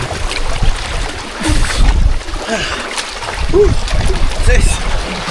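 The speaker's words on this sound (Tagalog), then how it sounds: "Malakas yung alon." Rough, loud sea waves churn and splash continuously near a small island, as if breaking against a small boat, with people talking over it.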